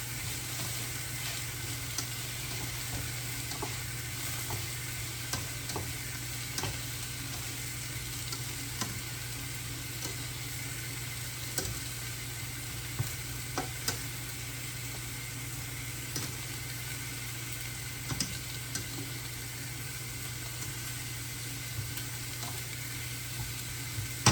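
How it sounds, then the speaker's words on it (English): Fresh garden greens tossed in a hot pan sizzle and fry steadily, with faint stirring scrapes and small clicks over a continuous crackling hiss. "Toss these greens around."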